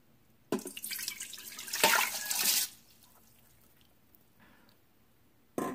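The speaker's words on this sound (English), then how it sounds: "So first we're going to add in the ginger, like that. Then the rice." Dry rice and fresh ginger pour into the inner pot of an Instant Pot for congee, a hissing rattle of grains that surges for about two seconds, then a quiet pause and a brief clatter at the end.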